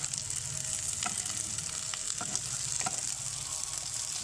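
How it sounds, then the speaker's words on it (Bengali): Chopped onions frying in oil for chilli chicken produce a continuous close sizzle, with a few clicks and scrapes of stirring cutting through the hiss. "সামান্য কুচি করে পেঁয়াজ দিয়ে দিচ্ছি, পেঁয়াজটা ভালো আসবে।"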